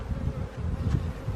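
A honeybee buzzes steadily and loudly right beside the microphone at an open beehive during an inspection, its drone wavering without a break.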